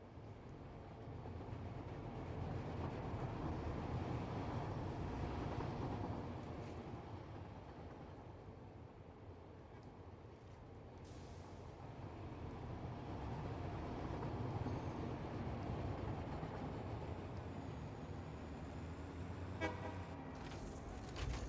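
Several trains run on a bauxite loop in the factory game Satisfactory, making a steady rolling rumble throughout with brief high tones near the end.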